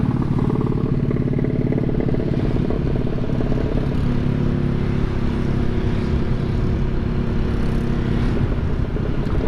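Honda PCX150 scooter engine running steadily for the whole stretch, a loud continuous low mechanical drone with some clatter, close by and with no voices over it.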